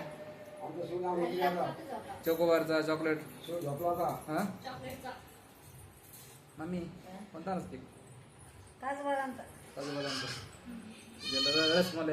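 A goat bleats several times in a home setting, with wavering, nasal calls spread through the clip, mixed in and alternating with ongoing speech from family members nearby.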